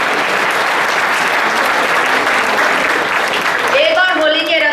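Loud, sustained clapping from a crowd at a Hindi kavi sammelan poetry recital, a dense wash of applause. A voice begins speaking over it near the end.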